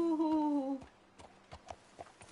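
Horse hooves clip-clop in a Red Dead Redemption 2 game scene, a few soft, irregular thuds at moderate distance following a brief tonal sound at the start.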